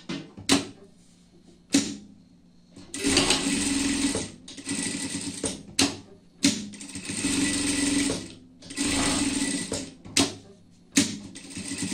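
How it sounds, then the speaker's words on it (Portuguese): Sewing machine stitching fabric pieces for a small lion-themed pet costume, running in several steady bursts of a few seconds each with short pauses and clicks between them, close and fairly loud with no talking. "Vamos passar uma costura por tudo aqui"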